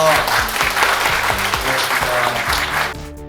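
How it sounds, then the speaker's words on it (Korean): A roomful of people at a temple stay at Beopjusa claps enthusiastically for a few seconds, the applause fading out at the end. "큰 박수."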